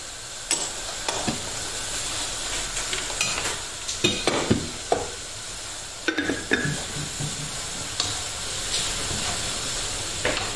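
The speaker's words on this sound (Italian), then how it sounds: "lasciamo evaporare l'alcol." Shredded cabbage for sweet-and-sour sauerkraut sizzling in a hot pan as added alcohol cooks off, a steady frying hiss broken by stirring scrapes and soft clatters, close and moderately loud, no talk.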